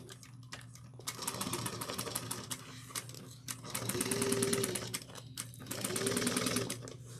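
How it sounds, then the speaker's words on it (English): A sewing machine stitches straight across a tote bag seam at a 3/8 inch allowance: a loud, steady, rapid mechanical hum in bursts, pausing and restarting twice, close up with no speech. "we're going to sew all the way across at 3/8 of an inch"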